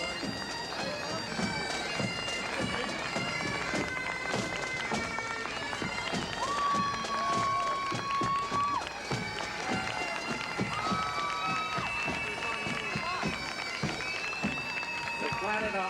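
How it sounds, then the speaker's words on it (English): An Irish pipe band marching down Chestnut Street in Philadelphia's St. Patrick's Day parade, steady sustained drone and melody tones over dense drumming and crowd noise, loud and continuous throughout. "you can hear the pipe band in the background as they march down Chestnut Street"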